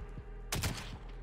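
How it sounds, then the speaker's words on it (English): A short, sharp burst of gunfire rips through a Call of Duty Warzone match, sudden and loud against a quiet game backdrop, then fades back to low ambience within a fraction of a second. "Yep, they're shooting at us."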